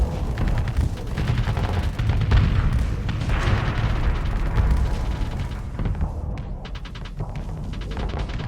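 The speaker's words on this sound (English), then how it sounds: "here you can see the Piranha bombers delivering their bombs and then retreating towards our carrier in the back" Piranha bombers' bombs exploding against a station during a Starsector space battle, a dense, loud barrage of overlapping booms and rapid gunfire-like blasts that rolls on steadily with no pause.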